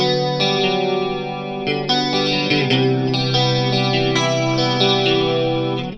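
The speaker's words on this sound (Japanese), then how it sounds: "ディメンションコーラス。" Guitar through a dimension chorus effect pedal, shimmering and wide with a gently swirling modulation over sustained strummed chords, loud and close, with no talk.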